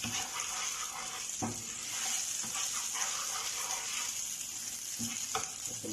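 Garlic and spring onion cook in a pan with a soft, continuous sizzle and light crackle, broken by a few faint stirring clicks.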